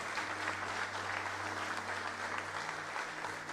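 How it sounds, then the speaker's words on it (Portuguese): Continuous applause from a church congregation, a thick steady roar of many hands clapping at once, heard from a slight distance over a low electrical hum, fading slightly toward the end. "Então aplauda o Senhor e glorifique o seu nome por isso."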